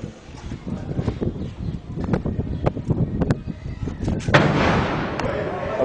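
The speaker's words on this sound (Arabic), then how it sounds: "قصف عنيف على منطقة الحولي" Heavy artillery shelling strikes Houla in Homs, with repeated loud booms and sharp cracks in irregular bursts, some close and some farther off, over a constant rumble of background noise.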